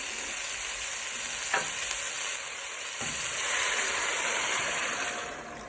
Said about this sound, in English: And give that a stir